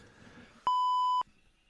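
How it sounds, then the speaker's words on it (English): A single clean electronic beep, loud and steady for about half a second, standing alone between quiet stretches. "Beep."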